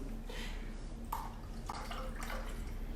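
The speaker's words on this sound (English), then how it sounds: "And then you just top it with sparkling water." Sparkling water poured into cocktail glasses of a wild blueberry smash, a fizzy splashing trickle with faint bubbling, close and fairly quiet.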